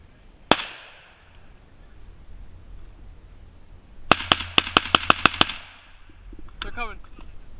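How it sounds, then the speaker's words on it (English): Blank rounds fired from a rifle at a Milsim West event outdoors: one sharp crack, then a quick string of about eight evenly spaced shots close by, with quiet talk between and after. "I'm gonna be shooting blanks from right here."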